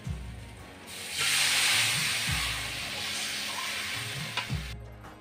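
Water poured into masala frying in hot oil for a cotton stalk fish curry gives a sudden loud sizzling hiss that swells, then settles into a steady bubbling sizzle with a few clinks of the utensil.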